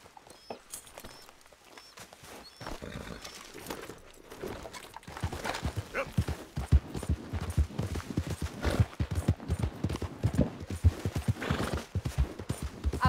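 Horse hooves clip-clop in Red Dead Redemption 2, starting faint and sparse, then growing into a loud, close, steady trotting rhythm.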